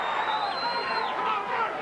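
A sellout boxing crowd at the Tyrell Biggs vs James Tillis fight roars in a dense, continuous wash of cheering, with an announcer's voice likely running over it.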